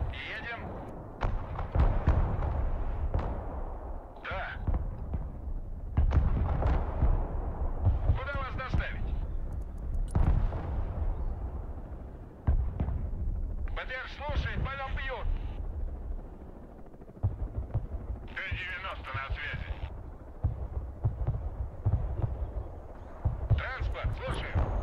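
Heavy artillery and rocket barrages in the military strategy game Broken Arrow, with repeated deep booms and rumbling impacts at irregular intervals beneath frequent talk.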